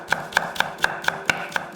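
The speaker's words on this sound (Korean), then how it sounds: "통마늘 2개는 다져서" Two whole garlic cloves are minced with a knife on a cutting board, a quick steady run of seven sharp, close taps at roughly quarter-second intervals, loud and clear with no talking.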